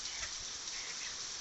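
Heavy rain falls in a steady, dense hiss that stays fairly faint and even throughout, with no voices over it.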